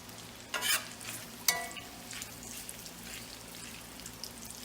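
Bacon renders in a Red Mountain Series cast iron pan, a soft, continuous sizzle and crackle with a couple of sharper clinks or scrapes near the start, alone without talk.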